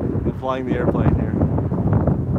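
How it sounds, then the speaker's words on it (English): Strong wind gusts buffet the microphone at a glider port where a model plane is flown, producing a rough, fluctuating rumble throughout, with someone talking over it. "we're getting some crazy wind gusts right now"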